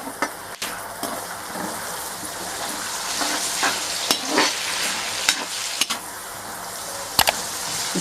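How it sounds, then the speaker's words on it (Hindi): Onions for prawn biryani fry in a pan, giving a steady close sizzle, while a spoon stirs them and scrapes the pan with scattered soft clicks. "उसमें से आधी प्याज मैंने बचा के रखी थी, वो इसके अंदर मैं भूनूंगी इस तरीके से"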